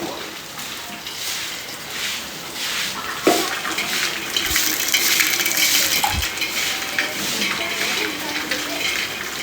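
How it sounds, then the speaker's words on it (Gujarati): Heavy rain pours down in a village, and rainwater gushes and splashes in a continuous wash of noise, with a few louder thumps and faint voices in the mix. "બહુ વરસાદ તો પાછો આવી ગયો છે"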